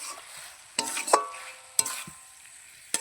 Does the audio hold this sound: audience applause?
no